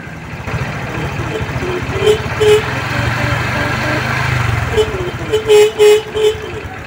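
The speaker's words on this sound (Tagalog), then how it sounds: "kailangan papigain yung throttle niya para lumakas po yung busina, pero mahina pa rin" A Honda XRM125 Fi motorcycle's weak horn gives several short, thin beeps, some paired, over the steady putter of its idling engine, close by.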